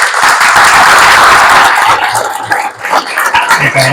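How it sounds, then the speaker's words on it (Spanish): A book-launch audience gives a loud, sustained round of dense clapping that thins out toward the end, with a brief voice near the close. "ahora vamos a dar primero un fuerte aplauso"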